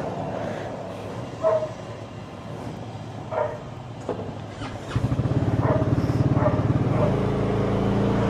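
Kymco Xciting VS 400 scooter idling quietly amid brief yips from a dog, then the engine revs up and settles into a loud, steady drone as it rides off.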